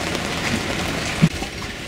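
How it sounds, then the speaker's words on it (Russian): Heavy rain pours steadily onto a sailing yacht at night off Montenegro in light wind, a dense even hiss with one brief louder knock near the middle. "Ветер, да, на самом деле слабоват, но вот дождик заливает конкретный."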